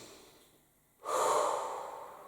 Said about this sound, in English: Again, deep breath in.